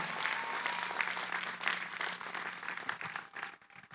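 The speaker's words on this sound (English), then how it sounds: "Please give a round of applause to everybody that's here" Audience applause at a master's commencement ceremony, a dense, steady wash of clapping from a large crowd that holds for about four seconds and then begins to thin toward the end.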